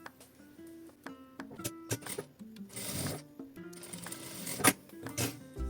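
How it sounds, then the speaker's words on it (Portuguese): A sewing machine stitches a zipper to fabric for a small crossbody phone bag, running in short bursts of whirring stitches broken by pauses, close and moderately loud, with no speech. "passo uma costura de segurança bem na pontinha"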